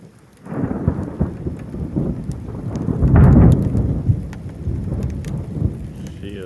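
Thunder rolls through a storm with rain falling, building to a deep, loud rumble in the middle and then easing back to a steady, near, low roar.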